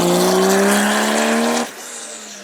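A twin-turbo Contera MD1 supercar at the Beaulieu Supercar Weekend roars past close by, its loud engine note holding high, then dropping sharply as it goes by and fading away.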